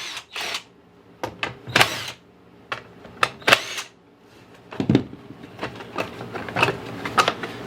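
A socket wrench ratchets on the top carburetor bolts of a Troy-Bilt mower, with short bursts of close clicking separated by pauses, plus a few metallic clinks.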